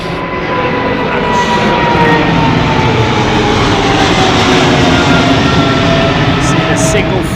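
Boeing airliner at London Heathrow Airport, a loud sustained engine roar with slowly shifting whine tones, steady throughout, with talk faintly beneath it.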